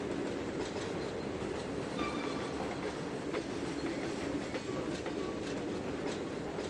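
A train runs in the Trainz 2022 railway simulator, a steady rolling rumble with faint clickety-clack and a few thin wheel squeals, continuous and moderately quiet with no talk.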